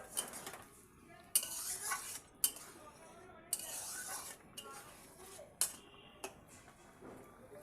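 Dhoka pieces, fried lentil cakes, go into boiling gravy in a pan: repeated clinks and scrapes of utensil against cookware, with sizzling bursts at intervals against a faint background.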